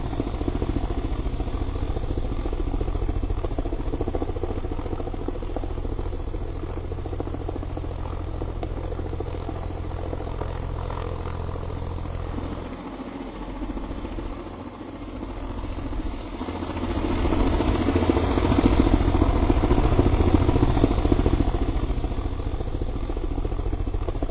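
A helicopter drones with a steady low engine hum and rotor beat throughout, moderately loud, dipping briefly in the middle before swelling again toward the end.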